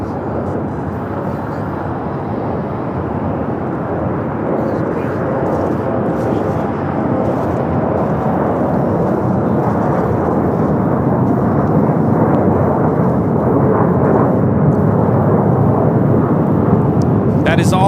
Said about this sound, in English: That is all Nippon Airways Flight 6 coming in from Tokyo Narita on the 787-9 Dreamliner.